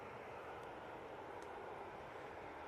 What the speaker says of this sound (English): Lovely takeoff there from the Qatar.